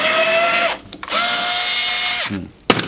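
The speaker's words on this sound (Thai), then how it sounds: "ใช้ดอกสว่านเจดีเบอร์12 นั่นแหละทะลวง" A power drill with a number 12 bit bores through an acoustic guitar body, whining loudly in two long bursts, pitch holding steady then winding down, followed by a short clunk and a sharp knock.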